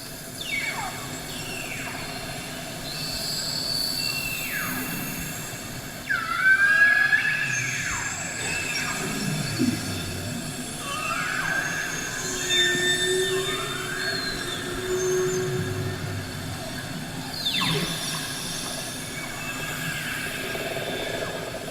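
Beluga whales in the St. Lawrence recorded underwater: a continuous chorus of whistles, rising and falling squeals and chirps over steady murky noise, moderately loud with overlapping calls throughout.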